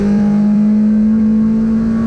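Hill climb race car engine holding a steady, loud drone with a strong sustained tone, sputtering slightly on an uphill stage while low on fuel, heard close and alone.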